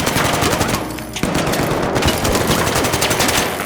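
Rapid bursts of automatic gunfire crackle close and loud, with a brief lull before the firing resumes in dense rattling volleys.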